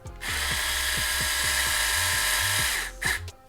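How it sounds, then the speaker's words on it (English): A handheld electric screwdriver drives a screw back into plastic on an Element Sendero SE Stealth XF RC car transmission, its motor whirring steadily in repeated spurts close up, then stopping near the end. "when you're using a driver to put screws back into plastic, I always drive it down until it's very close and then stop"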